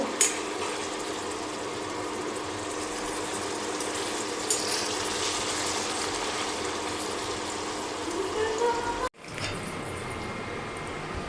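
Paneer cubes frying in oil in a pan, a continuous close sizzle and hiss running the whole time, briefly cut off near the end before the sizzling resumes.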